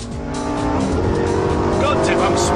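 Lamborghini Gallardo driven hard on a race track, engine roaring continuously with tires squealing through corners, loud and close, with a voice talking over the noise.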